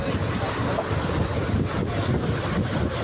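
A superfast passenger train runs at speed on the Virudhachalam to Tiruchirappalli line past Ariyalur, giving a steady, loud rumble with rushing wind buffeting the microphone throughout.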